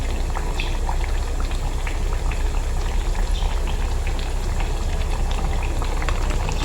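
Cooking oil boils hard in a pan for frying, a dense, loud, continuous crackle and bubbling heard up close with no pauses.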